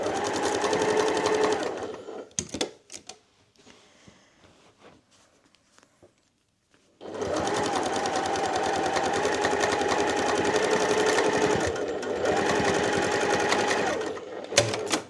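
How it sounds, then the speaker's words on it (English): An overlocker stitches across thick patchwork seams in two long bursts of steady, close whirring, split by a few seconds of near silence with faint handling noise. "I hope the overlocker is not going to argue with me about all these seams as well."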